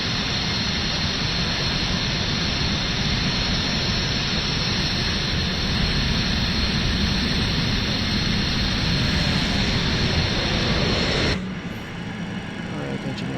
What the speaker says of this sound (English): Wow, look at this glamorous airplane